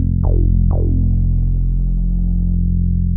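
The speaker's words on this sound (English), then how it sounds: "Now together, both basses sound like this." Two layered Fender bass tracks play together in a West Coast R&B sample, giving two plucked low notes that ring out and decay over a sustained low drone, loud and alone with no talking.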